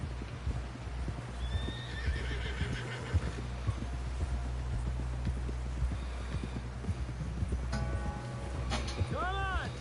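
Horse hooves clip-clopping at a steady gallop in a first-person cowboy video game, close and continuous, a whinny rising near the end and scattered background noise throughout.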